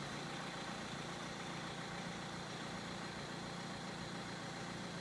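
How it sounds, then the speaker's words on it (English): Diesel 2.0-litre-class engine of a 2008 Ford Mondeo TDCI idles steadily with a constant low rumble and broadband hum, even and unbroken throughout, no voices. "Starts first time, idles fine."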